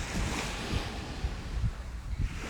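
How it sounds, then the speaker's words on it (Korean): Sea waves wash and surge at a steady, close, soft roar, mixed with wind rumbling on the microphone and gentle low thuds. "바닷소리 너무 좋다."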